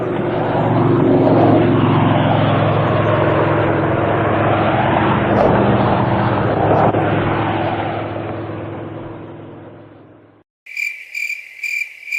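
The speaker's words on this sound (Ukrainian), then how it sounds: "звучить літак." A propeller airplane drones loudly overhead, its engine sound swelling and then fading away before a short chirping sound follows.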